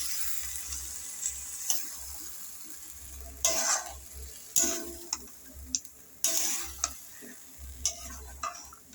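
Marinated chicken sautéing in a wok while being stirred, with repeated scraping and clacking strokes of a spatula over a low sizzle, in irregular bursts.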